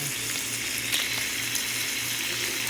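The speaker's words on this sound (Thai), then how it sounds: "พอน้ำมันค่อนข้างที่จะร้อนแล้วแล้วก็ ใส่เบคอนลงไปเลย" Bacon laid into fairly hot oil in a home kitchen, giving a steady, loud, close hiss of frying that stays continuous and unbroken without any voices.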